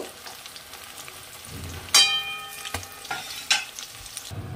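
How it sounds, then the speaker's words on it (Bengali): Rui fish pieces frying in mustard oil, a steady close sizzle with a few sharp metallic clinks and scrapes as the pieces are turned, no talking. "এবার মাছগুলো লাল লাল করে আমি ভেজে নেব"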